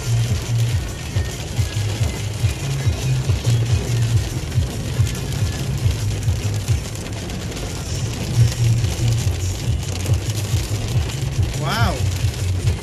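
Heavy rain hisses steadily against car windows, heard from inside the vehicle as a constant wash of sound under a low rumble, with a brief sweeping tone near the end.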